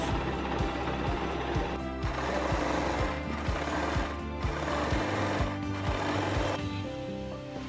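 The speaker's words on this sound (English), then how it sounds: "use your basting stitch to stitch along both sides" A sewing machine runs a basting stitch along both side seams of a skirt made from a men's button-up shirt, a steady fast mechanical chatter with rhythmic thumps, loud and continuous for the whole stretch with a brief slowdown near the end.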